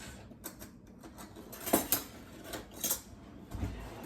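A spoon clinks and scrapes against the side of a metal pot while stirring salt into water to dissolve it, a few scattered taps and rattles at close range with no talking.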